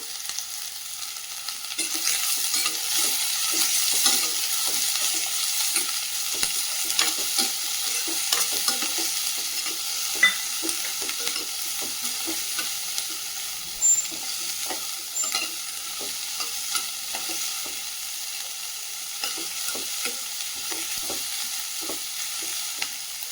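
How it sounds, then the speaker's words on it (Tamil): Finely chopped onion sautés with dried anchovies (nethili karuvadu) in a pan, a bright continuous sizzle broken by frequent quick scraping stirs of a spatula, close and steady with no talking. "வெங்காயம் நல்லா வதங்கி வரணும்."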